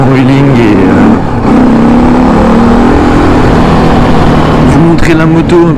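A KTM 530 EXC motorcycle engine runs loud and close, its pitch rising and falling through several revs over a steady throaty drone, with a voice talking over it.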